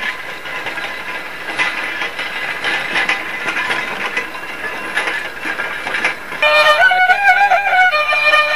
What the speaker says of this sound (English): Here comes the road grader.